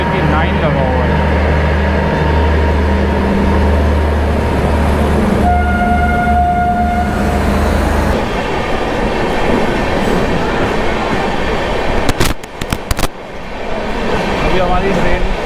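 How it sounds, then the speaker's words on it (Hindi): The Hapa Duronto Express summer special, hauled by a WAP-7 locomotive, rumbles loudly from inside as it picks up speed, with a low steady roar, a brief horn tone, and rattling clatter near the end. "हमारी ट्रेन तो अब धीरे धीरे स्पीड पकड़ी अपनी ट्रेन"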